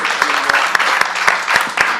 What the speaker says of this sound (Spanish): Acá un aplauso